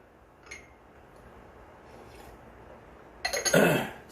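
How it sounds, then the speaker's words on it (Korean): Person coughs, a lingering cough that keeps coming back: faint throat sounds early on, then a loud close burst of several harsh coughs near the end. "기침이 안 떨어져"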